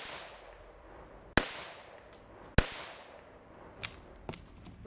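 Two sharp, loud .22 rifle gunshot cracks with CCI .22LR ammunition a second apart, followed by two fainter pops, in an otherwise quiet outdoor setting.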